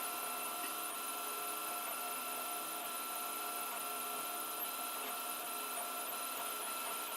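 3D printer running a corner curl warping test print, giving a steady, dense mechanical whir with fine motor buzzing that continues evenly throughout, alone without talk.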